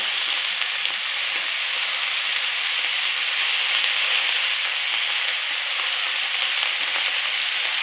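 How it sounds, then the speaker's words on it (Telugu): Curry leaves and stemmed coriander frying in oil, a loud, dense, steady hiss of sizzling that stays close and unbroken from start to finish. "అదే ఆయిల్లో కొంచెం కరివేపాకు, 2 రెమ్మలు కరివేపాకు వేసుకుంటే"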